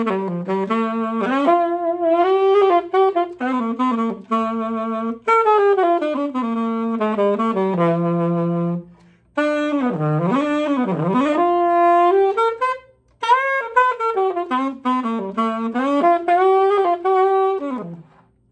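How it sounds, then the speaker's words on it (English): Alto saxophone played through a 3D printed Resonator 7 mouthpiece, loud and close, with phrases of sustained and moving notes separated by brief breaths, some bent pitches, and no talking. "here is the sound of the 3D printed Resonator 7 alto sax mouthpiece"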